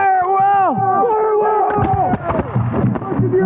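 A ragged flintlock musket volley crackles loudly and overlapping in the woods at a Revolutionary War reenactment in Camden, 2023, following shouted commands, with crowd noise and echoing reports trailing off.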